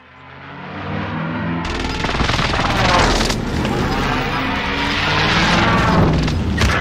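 Sustained gunfire in Call of Duty: Warzone, an MG42 light machine gun among the weapons, a dense, loud burst-heavy barrage that starts abruptly after a quieter opening and continues with booming reports throughout.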